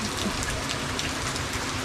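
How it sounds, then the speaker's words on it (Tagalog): Heavy rain pours steadily and close by, a dense continuous hiss of drops drumming on surfaces with no pauses and no voices. "Pero malakas pa rin ang ulan."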